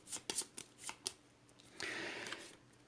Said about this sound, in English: the boiler room cards, let me just give these a shuffle on camera so you can see that I'm not cheating